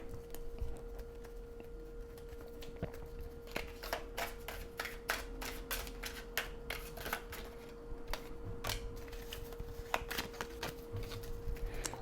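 Oracle cards are shuffled by hand in a quiet room, giving a long run of soft, crisp riffling snaps and flicks at an uneven pace, close and fairly faint.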